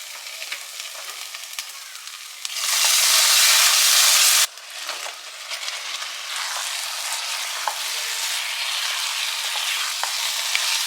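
Masala gravy with fresh cream fries in a pan with a steady close sizzle, which swells into a loud hissing burst for about two seconds before settling back to a continuous frying hiss.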